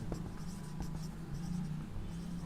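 Steady scratching of pen or chalk writing out a trigonometry formula during a maths lesson, continuous and faint over a low hum.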